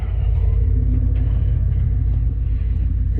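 A vehicle engine, running with an auxiliary throttle on a farm, holds a steady low rumble close by as it is put into reverse on grass, continuous and fairly loud with no talking.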